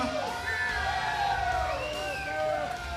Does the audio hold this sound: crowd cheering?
yes